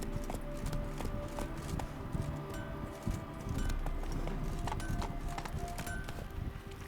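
Roach the horse gallops through a Witcher 3 game world, a steady run of hoof clip-clops carried over continuous ambient noise and music beds, with no voices and no break in the pace across the stretch.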